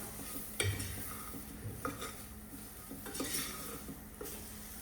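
Pepper masala for a duck roast being stirred in a pan with a utensil, scraping and clinking against the metal in a few distinct strokes over a low background hiss, with no one talking.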